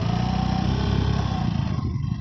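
A motorcycle engine drones steadily at close range, loud and continuous, easing slightly toward the end with no talking.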